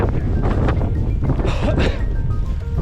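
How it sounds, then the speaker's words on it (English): Strong gusty wind buffeting the microphone on a mountain hill walk in the Wicklow Mountains, Ireland, a loud continuous low roar that swells and eases throughout. "Pretty windy today."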